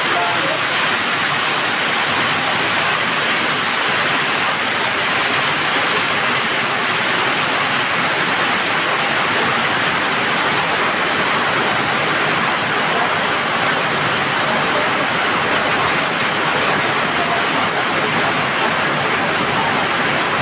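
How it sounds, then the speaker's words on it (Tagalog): Heavy rain pours down in a dense, unbroken roar of hiss around a tricycle driver, constant and loud throughout with no letup. "Grabing ulan."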